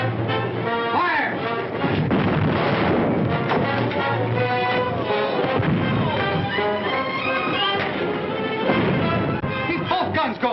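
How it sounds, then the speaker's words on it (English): Ship's cannons fire in a battle scene from the film Hearts in Bondage, booming heavily amid a dense, loud din of battle noise, with shouted voices mixed in throughout. "Keep both guns going."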